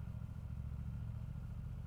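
A car engine idles smoothly at about 1500 rpm, a steady, low, even hum with no knocking, faint and continuous with no one talking.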